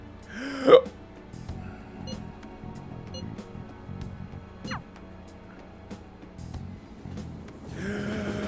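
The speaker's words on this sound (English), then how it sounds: "I have the hiccups." A character in Persona 5 Royal lets out a single sharp hiccup near the start, followed by quiet game ambience with faint clicks and a soft rising tone partway through.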